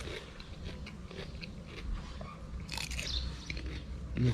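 Someone bites into crunchy spicy instant noodle salad with shrimp and squid, giving faint close crisp crunches and chewing, with a louder crunch near the end and no talk.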